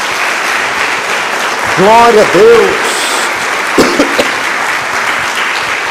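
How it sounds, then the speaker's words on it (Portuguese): A church congregation applauds during a worship service, producing a continuous bed of clapping while a voice briefly rises over it and exclaims in praise. "Dê uma salva de palmas a Jesus."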